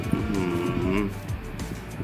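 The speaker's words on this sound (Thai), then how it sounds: "โอ้โหวัวนมนะครับ" Dairy cows in Farming Simulator 23 mobile moo loudly and close, one long drawn-out low moo with wavering harmonics, followed by quieter farm ambience.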